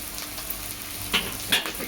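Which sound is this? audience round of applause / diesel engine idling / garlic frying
garlic frying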